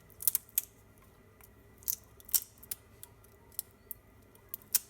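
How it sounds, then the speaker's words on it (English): Scissors snip and click while cutting open the original packaging of 1980s Mistral cane ceiling fan blades; a series of sharp, irregular close clicks and crisp snips over quiet background. "cut this open"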